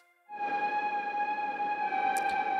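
A synth lead using a tape lead patch built from square and saw waves for dark ambient music, with light filtering and reverb, sustains a steady held tone with bright harmonics over a soft noisy wash, entering after a brief quiet start.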